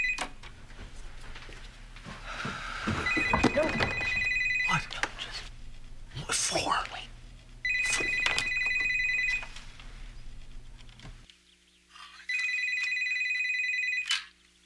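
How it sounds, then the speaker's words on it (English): Telephone rings in a Breaking Bad scene, three long electronic ring bursts separated by pauses, loud and clear over background music and brief voices. "Phone's about to ring again here."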